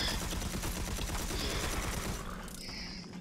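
Rapid automatic gunfire from the video game Red Faction Armageddon rattles out in a dense, continuous burst, loud and close, easing slightly toward the end as another weapon sound cuts in.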